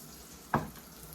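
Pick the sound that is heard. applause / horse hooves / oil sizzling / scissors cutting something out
oil sizzling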